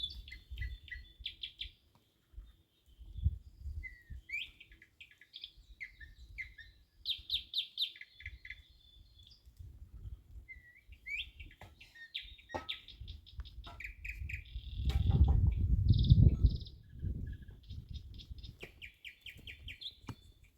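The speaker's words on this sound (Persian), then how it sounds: "صدای گنجشکیه" Sparrows chirp in repeated bright bursts of short tweets through the stretch, fairly close, over a low rumbling background with a louder muffled thump near the end; no one speaks.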